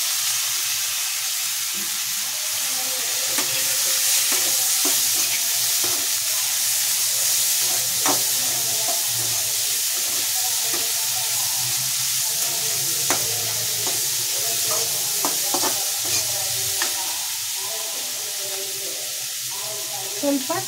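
Sweet corn and capsicum stir-fry in a pan of tempered oil seasoned with pepper powder and salt, giving a steady sizzle with scraping stirs and occasional clicks that carries on without a break for about twenty seconds.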